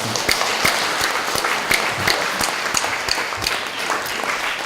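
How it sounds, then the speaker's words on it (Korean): A church congregation applauds during a sermon, a sustained, even wash of many hands clapping, loud and close, filling the whole stretch with only faint voices beneath. "박수 한번 쳐주세요."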